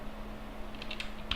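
Several quick keystrokes on a computer keyboard as a command is typed, faint clicks near the end over a steady low electrical hum.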